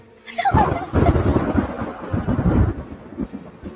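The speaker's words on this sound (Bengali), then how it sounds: "বাজ পড়ার প্রচন্ড শব্দে সেই সব আওয়াজ ক্রমশ চাপা পড়ে যেতে লাগলো।" A loud crack of thunder bursts close by and rumbles on, fading slowly.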